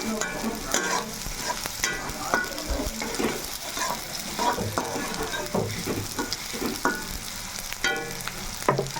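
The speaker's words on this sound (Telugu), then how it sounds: "ఇప్పుడైతే ఇలా బాగా వేగింది కదా, ఇంకొంచెం వేగాలన్నమాట." Tandoori chicken curry sizzling and frying in a pan while being stirred, with scraping spoon strokes and crackling spatters over a steady sizzle.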